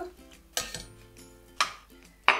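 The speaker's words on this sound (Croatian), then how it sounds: "idemo usitniti i ovo meso" A knife chops meat into small strips for quesadillas, giving three or four sharp, separate cuts against a board at uneven intervals, close and fairly loud in a quiet kitchen.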